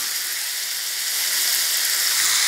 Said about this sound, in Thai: แล้วก็ผัดให้เข้ากันเลยนะคะ